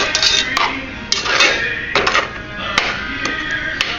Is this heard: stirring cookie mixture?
yes